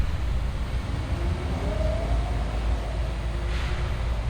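A train rolls past a highway crossing with gates and lights down, a steady low rumble holding throughout, with a faint high squeal drifting in midway.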